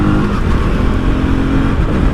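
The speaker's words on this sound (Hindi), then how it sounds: "मैं डाउन शिफ्ट कर रहा हूँ" A 2024 KTM Duke 250 with a bidirectional quickshifter and slipper clutch downshifts on the move, its engine a loud, close, continuous roar throughout.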